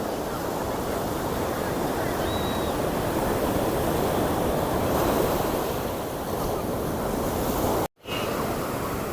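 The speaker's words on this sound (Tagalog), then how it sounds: "Lalaki ng alon mga." Large ocean waves break and roll continuously onto a black sand beach, a loud, steady surf roar with wind buffeting the microphone and a brief dropout near the end.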